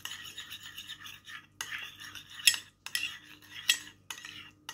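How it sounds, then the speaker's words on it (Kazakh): A spoon stirs sour cream and ayran together in a bowl, scraping and clinking against the sides in short irregular strokes, close and fairly quiet. "Екеуін жақсылап араластырамын."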